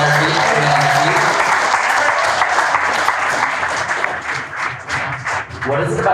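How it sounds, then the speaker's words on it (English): A live panel audience at the Boston Marathon gives sustained, loud applause for Puma employees, dense clapping from many hands that thins slightly toward the end, with some voices mixed in. "let's give a round of applause to the Puma employees that are putting this on their feet"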